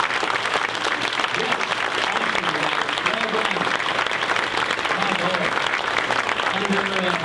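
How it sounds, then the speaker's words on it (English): A roomful of people applauds the 2020 Crystal Apple teachers at an educational excellence awards celebration, with sustained loud clapping throughout and a few voices calling out over it. "How about one final round of applause for the 2020 Crystal Apple teachers?"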